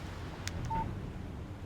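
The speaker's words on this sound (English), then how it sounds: "Text message from Barry." Alan Wake Remastered plays a short phone text message alert, a brief electronic beep heard once over low ambient wind.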